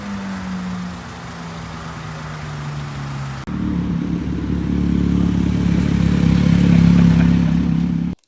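A loud Harley-Davidson motorcycle approaches from a distance. A low engine drone starts faint and then jumps to a louder, rising rumble that swells steadily as it draws nearer.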